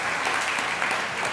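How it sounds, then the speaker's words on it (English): Steady, dense applause from a crowd at a chamber volunteer awards ceremony, continuous clapping without pause. "Big round of applause for them."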